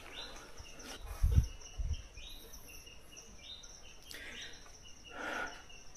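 Faint, scattered bird calls chirp high over a quiet forest background in Alas Purwo, with a couple of low thumps and a soft insect-like hum.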